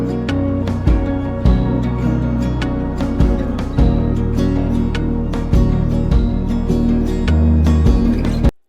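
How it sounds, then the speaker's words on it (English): A tom drum layered into an ambient pop beat built in FL Studio, landing among kick, rim clicks and sustained low bass tones in a full, dense electronic mix with no talking. "so I added this tom."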